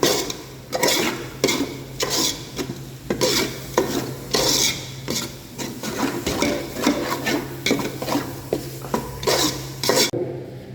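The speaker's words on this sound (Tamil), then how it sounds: "நல்லா கிண்டணும்." Chicken being stirred through masala in a pan over low heat, a spoon scraping and knocking against the metal in repeated close strokes, steady and fairly loud with a faint hum underneath and no talk.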